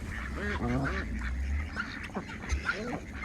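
A flock of farmyard birds, ducks or geese among them, call in a close cluster of honking quacks and squawks, several overlapping bursts over a low background rumble.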